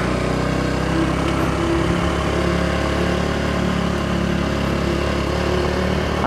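Motorcycle engine pulling in first gear on a mountain trail toward Baguio, a steady close droning hum held at moderate revs with no speech over it.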